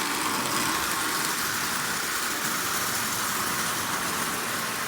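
A Marx 898 toy train locomotive with a tender pulling a dozen litho cars runs at half power, a steady even whirring and rattling hiss from motor and wheels, close and continuous with no talk.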